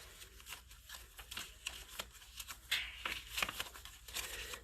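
Repeated clicking from a dish heater indoors on a cold day, short sharp ticks spread irregularly through the stretch, fairly close but quiet, with faint rustling in the background and no talk.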